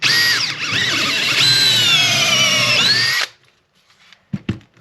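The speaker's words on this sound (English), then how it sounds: "getting your 1-inch hole saw bit on your drill, of course, and making a little Lexan donut" A power drill with a 1-inch hole saw whines steadily while cutting through Lexan polycarbonate plastic for about three seconds, loud and close, then stops, followed by a few light knocks.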